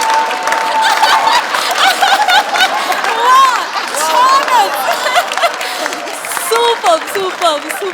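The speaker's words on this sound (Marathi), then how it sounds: "जोरदार टाळ्या सगळ्यांसाठी" An audience on a Marathi comedy show stage bursts into loud, sustained clapping after a performance, mixed with scattered laughter and cheering while a presenter's voice rises over the crowd.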